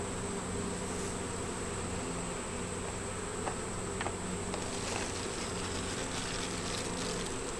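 Honey bees buzz steadily at a hive infested with beetles, a continuous low hum with a few faint clicks and knocks close by, no voices.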